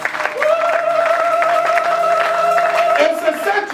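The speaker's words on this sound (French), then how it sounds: "Acclame plus fort la parole de Dieu" A church congregation applauds during a worship service, a steady wash of clapping and crowd noise lasting several seconds, blended with sustained musical or vocal tones.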